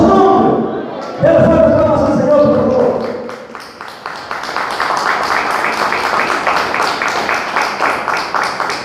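Church congregation applauding the Lord during an evangelical service, a dense, steady wash of clapping from many hands that builds after a few seconds of preacher talk and keeps going to the end.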